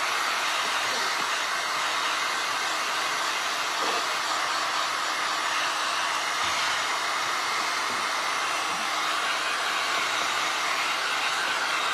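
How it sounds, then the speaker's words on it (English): A handheld hair dryer blows steadily over glass and resin artwork, a loud, continuous hissing whoosh of air with a constant motor whine that holds unchanged for the whole stretch; no talking. "dry this with my dryer so that we can keep moving forward"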